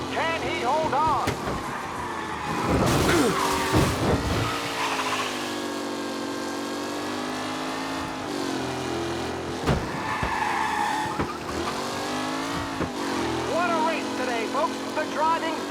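Race cars in Mafia Definitive Edition roaring past with tire squeals and skids, engine tones rising and falling, loud bursts around the fourth and tenth seconds, under continuous race commentary.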